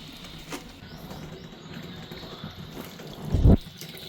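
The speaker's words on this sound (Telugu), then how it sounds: "ఇప్పుడైతే చింతపండు రసం తీసుకుని వేసేసుకుంటున్నాను" Tamarind juice pours into a cooking pot in a home kitchen, a faint trickle that swells into a short, close splash near the end.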